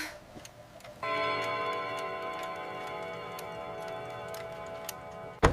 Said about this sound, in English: Every clock in the room ticking at him.